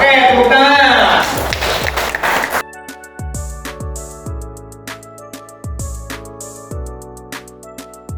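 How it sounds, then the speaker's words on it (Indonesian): A classroom of students claps hands during a teacher performance-test lesson, a loud burst of clapping for a couple of seconds that cuts off, followed by sparse taps and thumps with plucked music tones. "Oke, tepuk tangan."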